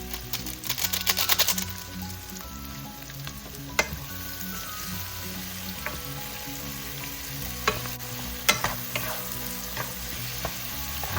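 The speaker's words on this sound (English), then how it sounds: "Just continue to saute them until our onions and tomatoes are all softened up." Onions and tomatoes sauté in a hot pan for a Filipino daikon radish dish, a steady close sizzle with repeated scraping and clacking of a utensil stirring, and nobody speaking.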